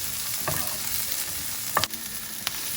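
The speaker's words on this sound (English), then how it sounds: "to this I'm going to add the ginger and garlic chopped, and then cook for 2 minutes" Chopped ginger and garlic sizzle steadily with onions in a hot frying pan, a continuous close frying hiss broken by a few brief stirring scrapes and clicks.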